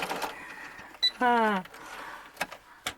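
A sewing machine stitches a brief locking back tack, a short whirring motor burst with a rising-falling pitch after a quick click, between soft handling noises.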